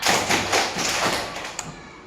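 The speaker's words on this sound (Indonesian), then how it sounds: "tepuk 1, tepuk 2, tepuk 3, tepuk 4" Rhythmic group hand clapping in a classroom ice-breaker, a run of broadband claps in steady patterned beats, close and fairly loud, with a teacher's voice faintly in the background.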